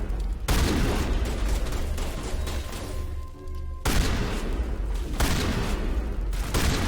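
Shotgun gunfire from the video game Mass Effect, loud dense bursts of blasts filling the scene, with a brief lull near the middle before the barrage resumes.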